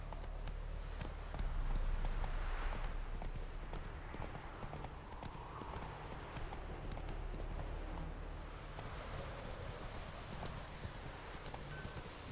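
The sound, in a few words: horse Roach galloping, from a video game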